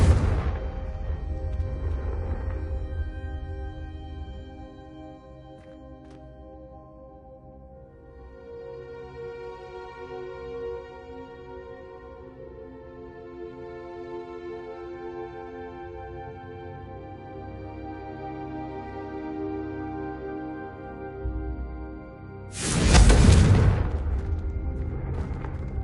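A Confringo fire spell in Hogwarts Legacy goes off as a heavy booming burst at the start, then tonal game music plays, and a second sharp blast hits near the end.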